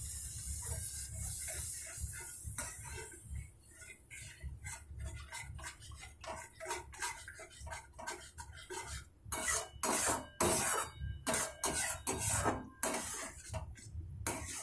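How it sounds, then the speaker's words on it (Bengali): Water poured into frying spice paste for palak paneer sets off crackling hiss and spatter in the pan, with scattered bursts rising and falling and a louder run of sizzling toward the end. "মশলাটা খানিকক্ষণ নাড়াচাড়া করার পর এবার আমি এর মধ্যে দিচ্ছি জল।"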